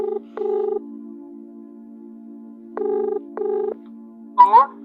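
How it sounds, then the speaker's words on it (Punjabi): Several short electronic phone keypad tones beep in irregular sequence, clean and close, followed by a brief soft chirping sound at the end. "ਚੱਲ ਨਾ ਫੋਨ ਤੇ ਲਾਵਾਂ ਮੁੰਡੇ ਨੂੰ ਇੱਕ ਵਾਰ"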